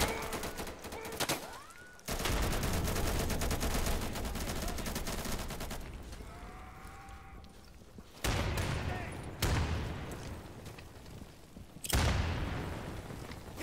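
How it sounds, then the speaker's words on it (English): Gunfire from the video game Insurgency, played on the Embassy of the Russian Federation map, comes as repeated bursts and loud individual shots, some near and some more distant, over steady in-game ambience. "Who the hell is shooting?"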